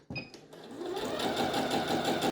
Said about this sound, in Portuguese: levante o pé calcador, abaixe e continue costurando